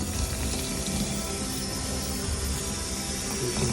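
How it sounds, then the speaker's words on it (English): Cold water runs steadily from a kitchen tap during rasmalai preparation, a continuous loud splashing stream with no pauses and no voices. "So you can add some cold water to it."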